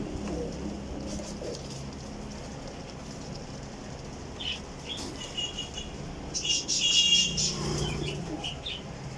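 Pigeons in a loft of long-flying Kasuri birds give soft low coos against a steady murmur, with a burst of flapping wings and scattered chirps rising near the end.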